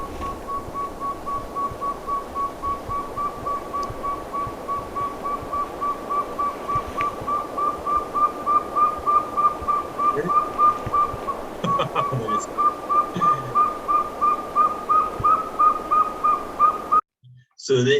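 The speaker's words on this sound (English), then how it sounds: "Here's what northern saw-whet owl sounds like." A long series of rapid, evenly repeated whistled toots from a northern saw-whet owl, steady in pitch and growing louder, continuing without break for many seconds.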